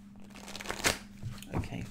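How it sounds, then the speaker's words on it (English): Tarot cards being shuffled by hand, a short papery riffle with a brief louder flurry midway, close and fairly soft, against a low steady hum with faint talk in the background. "So I've done a little shuffle."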